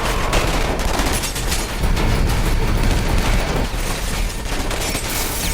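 Chaotic movie shootout with dense, continuous gunfire, overlapping shots and bursts filling the whole stretch at loud, steady intensity, with no speech.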